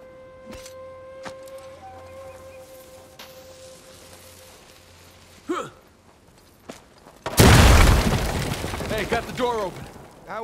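Dynamite explosion in the video game Uncharted: Legacy of Thieves, a sudden loud booming blast with a rumbling, crackling tail, preceded by quieter game sounds and speech.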